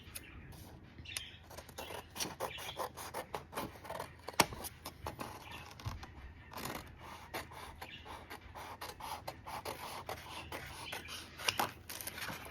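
Scissors snip through paper for a folder cover in a quiet room: a fairly faint run of crisp, irregular cuts and rustles, with no talking.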